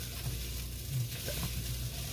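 Chicken fried rice sizzling in oil in a pan, a steady, close frying hiss that runs without a break and without any talking.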